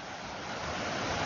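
Khardu river water flowing strongly after rain near the drinking-water project, a dense continuous roar close to the microphone, building slightly in loudness across the brief stretch, with no speech.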